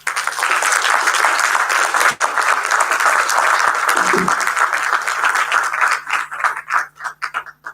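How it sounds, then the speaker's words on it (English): Loud sustained applause from a large audience fills the room, then thins out into scattered claps before stopping. "Another round of applause for Dr. Yoko."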